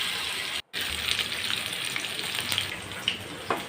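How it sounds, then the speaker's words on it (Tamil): Masala-coated pomfret fish frying in oil on a dosa griddle gives a loud, steady, close sizzle that runs throughout, with only a brief dropout near the start. "நம்ம ஏற்கனவே மசாலா சேர்த்து வச்சுருந்த வவ்வால் மீனை இப்போது வறுத்து எடுத்துக்கலாம்."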